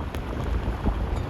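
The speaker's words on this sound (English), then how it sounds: "That's what we call windy, rainy evening in Calgary." Wind and rain on a stormy evening in Calgary, a steady broadband rush with low gusty rumble buffeting the microphone, continuous and fairly close throughout, no talking.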